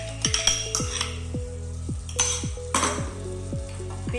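Pineapple juice extract is poured into a hot pan of curry leaves for pineapple rasam, with a steady sizzle, repeated metallic clinks and a few brief splashy bursts, and no talking.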